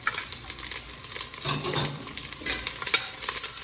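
Garlic and onion sautéing in a hot pan, a loud continuous sizzle with scraping stirs and occasional utensil clinks against the metal.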